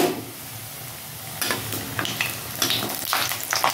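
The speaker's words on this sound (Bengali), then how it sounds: "কয়েকটা বড়ি আমি ভেজে নেব।" Urad dal bori frying in hot oil for a Bengali fish curry: a steady close sizzle with stirring scrapes that grows busier toward the end, with no voices.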